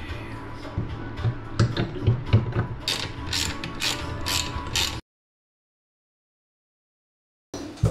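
A servo motor drives a small turntable platform. It gives close mechanical ratcheting and gear clicks for about five seconds, then silence, and a short burst of clicking returns at the end.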